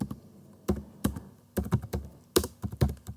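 Computer keyboard keys clatter in irregular bursts while code is being typed, with close, crisp taps grouped into quick runs separated by short pauses and no speech.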